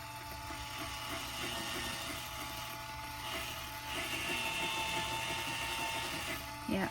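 A small motor on a miniature pottery wheel whirs steadily at raised speed, a continuous mechanical hum with a faint ratcheting texture, growing slightly louder midway, with a brief knock at the very end.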